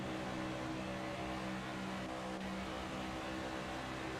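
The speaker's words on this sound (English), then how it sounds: "Let's listen to that car go 50 times by." A video game race car roars steadily around the Chicagoland oval with a dense, buzzing whine, holding a constant loud drone throughout.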